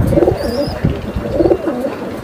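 Racing pigeons in a loft coo in repeated soft, throaty rolls, close and fairly loud, with no talking.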